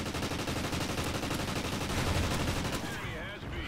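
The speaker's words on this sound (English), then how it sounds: "that guy's using a shotgun I've never seen before" Shotgun fire in a competitive online shooter match, a dense run of loud repeated blasts packed close together throughout, fading toward the end, with possible talk mixed underneath.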